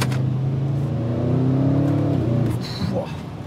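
A hot Audi RS6 engine rumbles and revs nearby, holding a steady growl before easing off toward idle.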